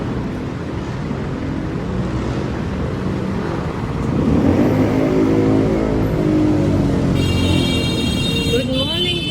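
A motor tricycle on a Manila street passes close by with a loud, droning engine rumble that swells midway, amid steady traffic noise and a brief high tone near the end.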